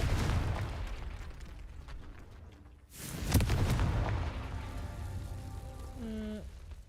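A Confringo spell blast in Hogwarts Legacy strikes as one sudden loud burst partway through, over dense rumbling game ambience, then fades into a sustained tonal sweep.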